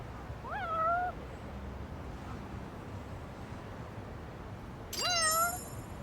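Two separate meows from a cat being petted in the Lost Judgment video game, a few seconds apart, each clear but fairly soft over a low, quiet background hum.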